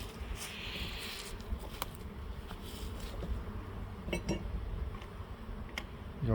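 Honey bees buzz steadily in and around a hive in an open apiary, a faint continuous drone with a few louder passes and light clicks.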